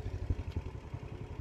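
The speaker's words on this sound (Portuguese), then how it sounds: "aqui nessa canoa grande nossa é onde tá o motor bomba" A small motor pump sitting in a large wooden canoe runs with a steady low, rattling chug, near and moderately loud, pumping river water toward a house during a drought in the Amazon interior.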